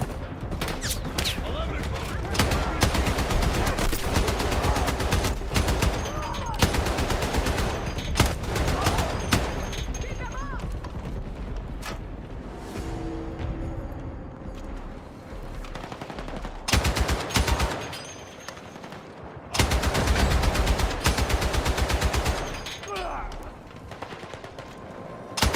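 Rapid machine gun bursts fire in a video game, loud and sustained across most of the stretch, with short pauses and a heavy final volley, while someone talks over the shooting.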